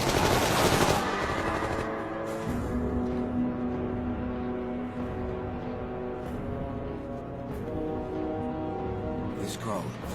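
Rapid machine-gun and rifle fire from soldiers in a kung fu action film rattles loudly and continuously, mixed with shouted voices and a dense soundtrack.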